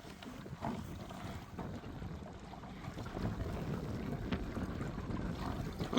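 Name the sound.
Merc 3.5 outboard motor pushing Quest Angler 10 boat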